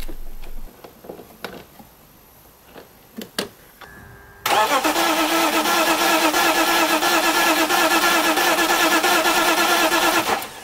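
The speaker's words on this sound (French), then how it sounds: "j'ai pas rebranché les bobines, juste pour la faire tourner au démarreur" BMW 325ti engine spun over on its starter with the ignition coils left disconnected, a sudden loud, sustained whirring crank with a fast rhythmic pulse that never catches, after a few quiet ticks and clicks.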